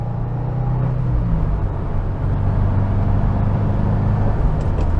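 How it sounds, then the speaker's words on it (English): A 2022 Subaru WRX pulls hard under steady acceleration, its engine a continuous close, loud rumble with a slight dip partway through that suggests a gear change, heard from inside the car with no talk. "Just love the acceleration of this vehicle in terms of the smoothness, shifting from gear to gear."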